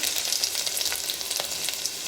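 Garlic and cumin sizzle in hot oil as a tempering for a Telangana-style tangy toor dal rasam, giving a steady, close, dense crackle with small pops that runs throughout, with no talking.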